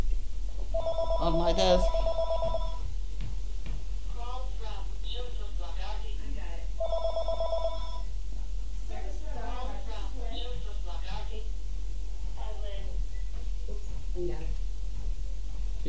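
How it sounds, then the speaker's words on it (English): A desk telephone ringing in two distinct electronic bursts, fairly close, with people talking and a dog making noises around and between the rings. "Oh, it's a phone."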